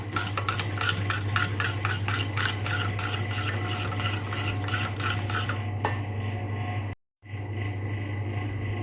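Basbousa cake batter being mixed in a bowl, a rapid, regular run of close stirring and tapping strokes over a low steady hum, ending abruptly with a brief silence near the end.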